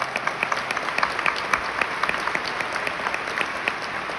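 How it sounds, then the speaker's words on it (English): An assembly audience gives a round of applause, a steady wash of clapping that holds for the whole span without talk over it. "Round of applause for my entire tribe."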